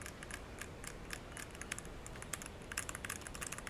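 Rapid, quiet clicking of computer keyboard keys pressed for fighting game inputs in Tekken, a steady irregular patter of keystrokes heard alone over faint background hiss.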